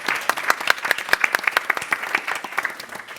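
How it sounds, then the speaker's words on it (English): An audience at a public talk on adult brain health claps in a dense, lively burst of applause, with many hands going at once. The clapping is close and busy and begins to taper toward the end. "a round of applause."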